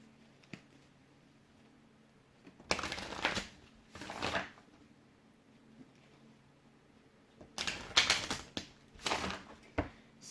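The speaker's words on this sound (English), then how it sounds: "I'm just going to give these a couple extra shuffles." Oracle card decks riffled and shuffled by hand in a few quick bursts of papery flutter and slaps, near and fairly loud, separated by quiet pauses.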